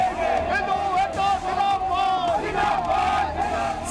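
Thousands of protesters massed on a Shimla street, a dense roaring crowd chanting and shouting slogans in loud rhythmic waves, with a voice speaking over the din.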